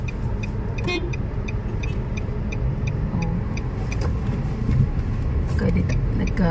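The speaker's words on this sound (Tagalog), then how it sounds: "Na to dito sa traffic." Busy holiday-rush road traffic in a town in Southern Leyte, with a steady rumble of passing cars and vehicles and several short car horn toots, while a person speaks briefly nearby.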